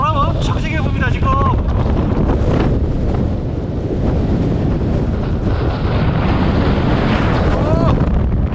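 Strong gusty wind roars and buffets the microphone outdoors on a bike ride, a loud, constant rush throughout, with a voice speaking faintly under it.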